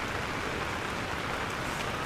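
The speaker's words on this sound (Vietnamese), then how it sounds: "Mưa quá." Heavy rain pours down at Sapa, Vietnam, in the stormy rainy season, a dense, steady, loud hiss with no letup and no talking.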